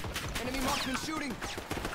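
Quick bursts of gunfire crackle in the video game Call of Duty: Black Ops 6, faint and rapid, mixed with other game sounds.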